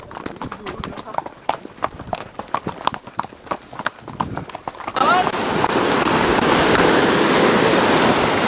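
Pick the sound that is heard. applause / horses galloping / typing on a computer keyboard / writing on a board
horses galloping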